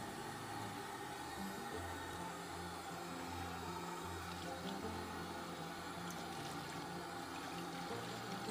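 Running water rinses soap suds out of a synthetic hair wig, a steady faucet-like flow with soft splashing that continues evenly and close by throughout, with no talking.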